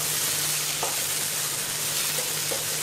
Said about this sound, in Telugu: సో బాగా ఫ్రై అయిపోయింది.